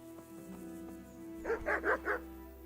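A dog in the medieval role-playing game Kingdom Come Deliverance barks four times in quick succession, fairly close, over a steady low ambient hum and faint background music.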